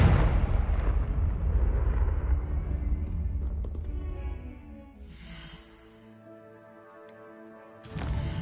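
A Confringo spell blasts in Hogwarts Legacy, a loud, broad roaring explosion that rumbles on for several seconds and then dies away, with a second sharp burst near the end.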